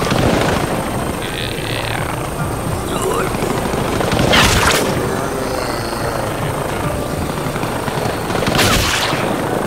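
A helicopter's thudding rotor drone runs throughout, with machine-gun bursts rattling over it in a few loud broadband blasts spaced several seconds apart.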